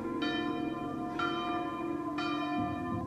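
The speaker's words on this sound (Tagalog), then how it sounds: "may narinig akong tila kampana" A bell tolls three times at a slow, even pace, each strike ringing out with a long, humming resonance that carries into the next.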